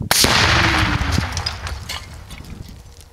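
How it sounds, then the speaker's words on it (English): A sharp, booming Tannerite blast shatters a microwave outdoors, the loud crack followed by a rolling rumble and scattered debris rattling as the sound slowly fades. "this is a microwave explosion"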